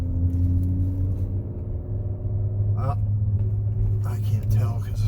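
A 2012 Volkswagen Beetle rolls over a rough road, its steady low engine drone and road rumble continuous throughout, with a brief rattle partway through and a voice speaking near the end.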